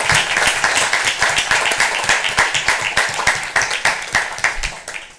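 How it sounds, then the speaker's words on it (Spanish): An audience at a lecture event applauds to welcome indigenous community representatives, producing dense, continuous clapping from many hands nearby that gradually thins toward the end. "Les damos un aplauso."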